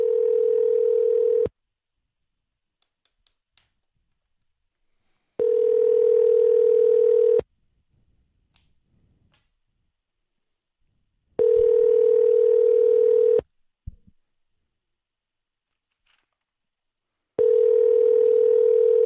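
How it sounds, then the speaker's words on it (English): A steady telephone dial tone sounds loud and close in four long blocks separated by silences, with a few faint keypress ticks and small noises between them. "Let's keep dialing."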